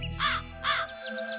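A cartoon crow gives two loud, clear caws in quick succession, then falls quiet apart from faint chirps in the background.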